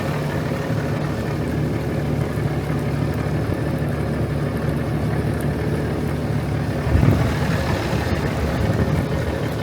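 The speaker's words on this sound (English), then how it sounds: "He's revved it up, it's now sitting about 14 bar" On a farm, an engine drives a slurry pump in a steady, loud, close drone after being revved, with a brief louder surge partway through and no talk.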